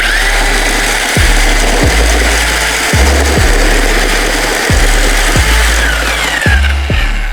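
A mixer drill churning a cement mix with crushed stone at second speed and maximum revs, a loud continuous motor whine with regular low thuds as the paddle knocks through the gritty mix.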